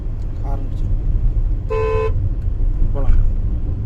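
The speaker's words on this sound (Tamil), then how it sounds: "ஹார்ன்" A car horn gives a single clear honk of about half a second, heard on the road during a driving lesson over steady engine and traffic noise. Brief speech comes just before and after it.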